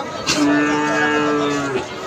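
Holstein Friesian bull calves, a few months old, at a cattle market; one calf lets out a single drawn-out, clear moo close by, with no talk.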